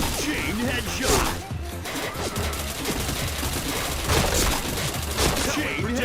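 Rapid bursts of automatic gunfire and impact cracks in a shooting video game, dense and loud, overlapping with excited talking throughout.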